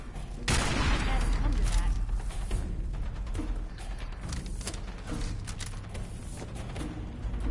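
Gunfire from a firefight in Fallout 4, with a loud burst starting about half a second in, then sustained rapid shots and mechanical clatter running to the end.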